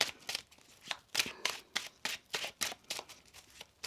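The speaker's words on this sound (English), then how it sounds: "One more shuffle." A deck of tarot cards is shuffled by hand in a quick run of soft, riffling bursts at an even rhythm, close and fairly quiet, with no talking.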